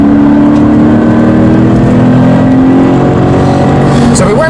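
Toyota GT86 tyres squeal steadily while cornering hard on a race track, a sustained whine running over loud, close engine drone and in-car noise for several seconds.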